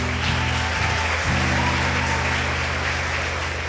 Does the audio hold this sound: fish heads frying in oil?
no